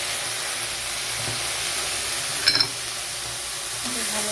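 Garam masala, cumin and ginger-garlic paste frying in hot oil for a coconut prawn malai curry give a steady close sizzle throughout, with a brief sharper crackle flaring midway.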